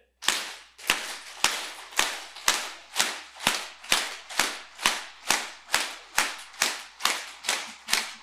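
A crowd claps hard in unison in a church hall, sounding about fourteen sharp, loud claps at a steady, slightly slow beat, each ringing briefly in the room before the next one.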